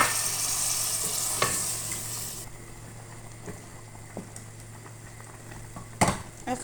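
A butter fish curry simmers in a pan after water is poured over the spiced fish, giving a loud bubbling hiss at first that drops to a quieter low simmer, with a few clinks and scrapes of utensils.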